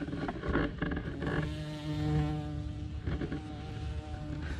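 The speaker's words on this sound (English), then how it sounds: "bumblebees really like these comfrey blooms" Bumblebee buzzing around comfrey blooms, a close wavering drone that rises and falls in pitch as it moves over a faint outdoor background.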